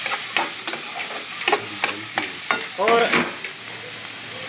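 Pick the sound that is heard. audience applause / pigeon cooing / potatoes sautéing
potatoes sautéing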